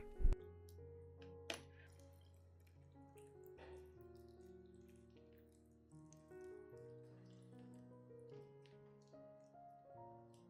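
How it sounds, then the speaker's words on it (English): Water poured slowly onto potted plant soil, a soft trickle with gentle gurgling and a couple of small splashes near the start, fairly quiet and continuous, with faint tonal music underneath. "When watering, do it slowly and evenly, so the solution can gradually soak into the potting medium or soil"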